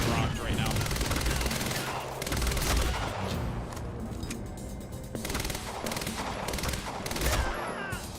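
Dense, continuous gunfire from the video game Quantum Break, with rapid bursts, shots and booms in a sustained firefight, loud throughout with brief lulls.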